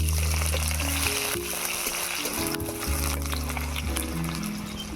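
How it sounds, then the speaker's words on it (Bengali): Chopped onion, nigella seeds and a dried red chilli sizzle steadily in hot mustard oil, a constant close hiss of frying that runs under prominent background music. "পেঁয়াজ আদা রসুনটাকে একটু লাল লাল করে ভেজে নেব"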